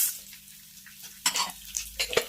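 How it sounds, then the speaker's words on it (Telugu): Coriander seeds and cumin being dry-fried in a pan, with faint stirring scrapes and light crackles building into a few louder clattery bursts toward the end. "జీరా, ఇవి మంచిగా ఫ్రై చేసుకోండి"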